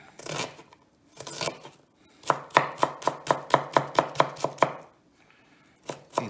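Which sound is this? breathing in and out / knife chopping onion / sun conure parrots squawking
knife chopping onion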